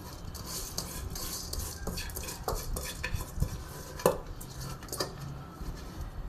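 A spoon gently stirs basmati rice in a pot for chicken biryani, producing soft scraping and light metallic clinks in an irregular rhythm, close and fairly quiet with one sharper knock partway through.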